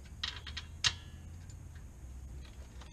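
A ratchet used as a breaker bar works loose a rear brake caliper bolt on a Kia Optima, producing a short burst of quick metallic clicks early on, then near silence.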